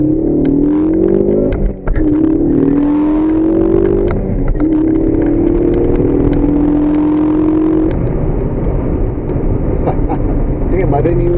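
A Ford Focus ST accelerates hard down an empty lane on a test run before new performance parts and a tune are installed, its engine note climbing steadily through the revs, loud and close-miked, with a gear shift near the end.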